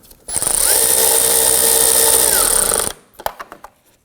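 Screws going into parking sensors on a 2003-2014 Volvo XC90 under a power driver: one loud, steady motor whir lasting about two and a half seconds that stops abruptly, then a few quick clicks and taps as the tool is handled.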